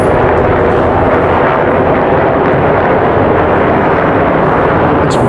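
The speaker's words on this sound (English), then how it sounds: "It's a bunch of helicopters going above us" Several helicopters fly overhead at a ranch, producing a steady, loud, broad roar that holds unbroken throughout.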